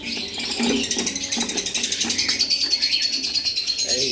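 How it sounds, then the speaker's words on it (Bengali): A pair of yellow-collared lovebirds kept in an aviary cage call in rapid, repeated high chirps and chatter, loud and continuous, with other caged birds faintly around them. "আর নিচে এক পেয়ার ইয়েলো কলার লাভ বার্ড রয়েছে আপনাদেরকে দেখাচ্ছি"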